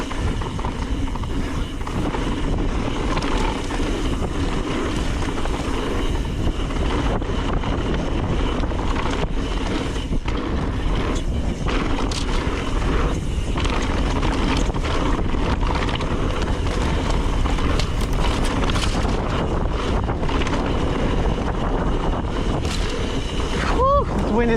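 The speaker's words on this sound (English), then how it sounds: "Whew, this wind has done some, bringing some sticks everywhere." Strong wind gusts across the microphone on a mountain bike trail in Laguna, a loud continuous roar that persists throughout with little variation.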